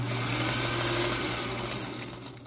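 A sewing machine runs steadily, stitching quilt flower petals with a quarter inch seam and no backstitching, a close, continuous whirring hum that tapers off at the end.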